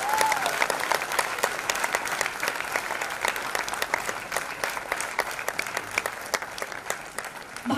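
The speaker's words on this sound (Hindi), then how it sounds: "एक बार करतल ध्वनि, जोरदार तालियां इन सभी के लिए." A large audience at a music launch claps loudly and steadily for several seconds, a dense continuous roar of many hands that swells slightly at the end.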